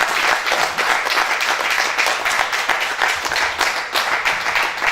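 An audience at a live music show applauds a performer, dense steady clapping sustained throughout and loud, with no talk over it.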